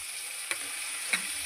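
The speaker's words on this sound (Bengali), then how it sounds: "এটাকে একটু কষিয়ে নেব মশলাটাকে" Spice paste fries with potatoes in oil in a pan, a steady, fine sizzle that continues without a break, punctuated by two soft clicks from stirring.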